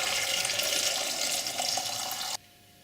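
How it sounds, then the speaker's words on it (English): Spicy pickled onions, chillies and vinegar pour into a Kilner jar as a steady, close liquid rush that stops abruptly near the end. "All we're going to do is just put the whole lot now into our Kilner jar."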